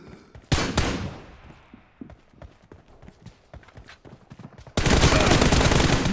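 Gunfire in the PUBG battle royale video game: loud, sharp shots crack out in quick succession, then a busy patch of smaller impacts, ending in a sustained, dense burst of rapid fire.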